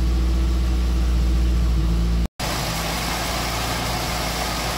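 A 1968 Datsun 1000 engine idles slightly fast with a steady, close rumble, interrupted by a brief dropout before the running continues.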